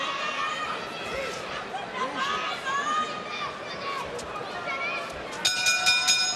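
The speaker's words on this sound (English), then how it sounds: "And there's the bell to end the first." A boxing ring bell sounds near the end of the first round at a professional bout in Birmingham, bright ringing partials cutting in over a steady buzz of arena crowd chatter.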